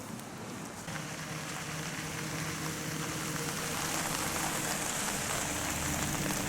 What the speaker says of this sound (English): It had begun to rain